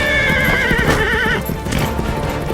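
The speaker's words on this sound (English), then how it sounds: "Ruth managed to mount a horse to flee" A horse neighs loudly with a long wavering whinny over galloping hoofbeats, close and dominant, with no voices.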